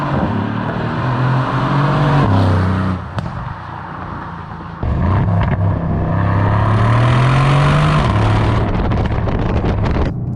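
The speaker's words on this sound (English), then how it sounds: "Stock exhaust on this thing sounds absolutely awesome." A 2017 Mercedes-AMG C63 S Coupe engine revs loudly through its stock exhaust, rising and falling in pitch with gear changes, a brief drop in volume, then overrun crackles near the end.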